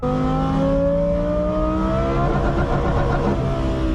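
A Lamborghini Huracan with an F1-style exhaust roars loud and close through a series of downshifts, its engine pitch sliding down with crackling, rasping blips as revs drop.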